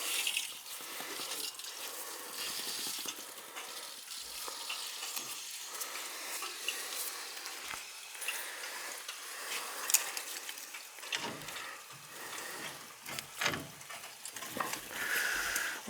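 Air and water purge through a zone of a gas boiler heating system on a split loop, a continuous hissing, gurgling rush with sputtering bursts that rise and fall over about sixteen seconds.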